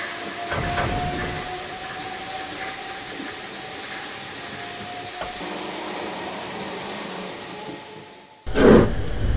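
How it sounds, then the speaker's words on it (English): Steam locomotive piston stroke sounds for the Trainz railway simulator: a continuous breathy hiss with faint rhythmic chuffs and a thin tonal whine, ending in a sudden louder burst of steam. "These are the sounds I'm going to use to make the piston stroke sounds."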